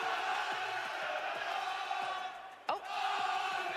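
Crowd cheering at the Fortnite FNCS 2023 Global Championship: a dense, steady roar of many voices fills the arena, with one short dip and a sharp thump near the end.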